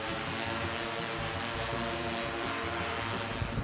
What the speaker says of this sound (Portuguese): E pega carona nos drones.